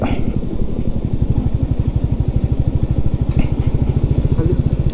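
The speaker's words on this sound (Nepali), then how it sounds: "हामी चाहिँ बाइकमा जाँदैछौँ अहिले।" A motorbike ridden over the Rakse bridge above the Kali Gandaki river on the way from Waling to Gulmi, its engine putting out a loud, rapid, even pulsing throb from close by for the whole stretch.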